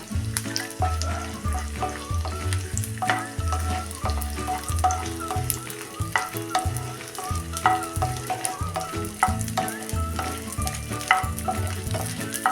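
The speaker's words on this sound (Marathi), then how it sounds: "आता थोडा थोडा करून हा डिंक आपण सगळा तळून काढूया चांगला फुलेपर्यंत" Edible gum (dink) fries in hot oil in small batches until it puffs, making a busy crackling sizzle with sharp pops under a steady melodic backing.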